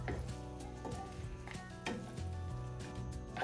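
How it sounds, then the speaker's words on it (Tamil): Spoon scraping and clinking in a pan as mutton is stirred into sauce for mutton devil, with intermittent scrapes and taps over a soft steady sizzle and background music. "இந்த சோஸ் எல்லாம் இந்த இறைச்சியில படுற மாதிரி நல்லா இப்போ இதை கலந்து விட போறேன்"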